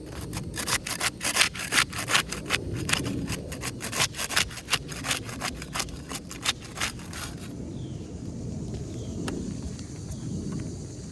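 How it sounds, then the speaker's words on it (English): A putty knife scrapes and pries under the sealed edge of a top roof shingle, giving repeated rough, rasping strokes up close that turn quieter and sparser toward the end. "We'll use the putty knife to unseal the top shingle."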